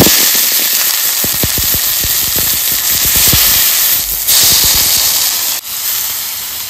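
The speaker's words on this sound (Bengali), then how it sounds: "পাতুরিগুলো ভাজার জন্য একটা রুটি ভাজার তাওয়া নিয়েছি, এই যে তাওয়াটায় ভাজবো" Rupchand fish wrapped in pumpkin leaves fries in oil on a flat iron roti tawa over a low flame, giving a loud continuous sizzle and hiss broken by rapid crackling pops. Near the end it briefly dips, as if the pan were being covered.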